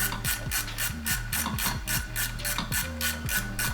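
A ratchet wrench unbolts the intake manifold on a Can-Am 900ACE Turbo engine, producing steady, close, rapid pawl clicks in a regular back-and-forth rhythm with no talking.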